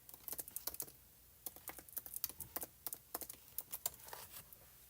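A password is keyed in on a computer keyboard: quiet, close clusters of crisp key taps with short pauses between runs.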